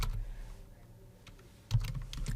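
Fingers type on a computer keyboard in quick, uneven runs of close keystrokes, softer in the middle and then a louder, denser burst near the end, with no speech.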